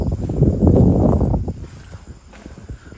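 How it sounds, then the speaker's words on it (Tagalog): Strong wind roars through an abandoned tunnel in Negros Oriental, a close, rumbling gust that swells loudly for the first second and a half and then eases to a softer rush. "Ang lakas ng hangin."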